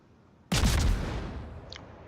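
High explosive shell salvo fired from the Khabarovsk destroyer in World of Warships: a sudden loud blast after a brief quiet lead-in, then a rumbling tail that slowly fades.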